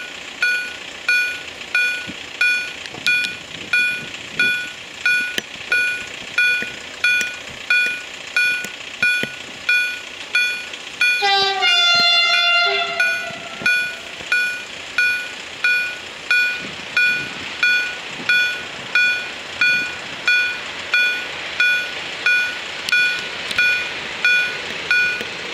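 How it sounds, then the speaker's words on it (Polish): A TLK Bory Tucholskie passenger train approaches the railway level crossing on ul. Skarszewska in Starogard Gdański. The crossing signal beeps steadily throughout, a loud horn blast sounds near the middle, and low rolling rumble continues underneath. "Jedzie już TLK Bory Tucholskie."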